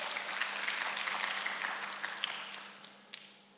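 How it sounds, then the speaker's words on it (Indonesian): Congregation applause at a church service fills the space with dense, steady clapping that thins out and fades toward the end, fairly soft and distant, with no voices over it. "Tepuk tangan bagi Allah kita"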